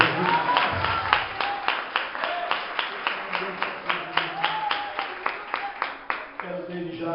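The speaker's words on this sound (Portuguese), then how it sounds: "Vamos dar uma salva de palmas para Jesus" A church congregation at a Baptist service claps in a steady, rhythmic beat of about three claps per second, with voices singing or talking over the clapping throughout.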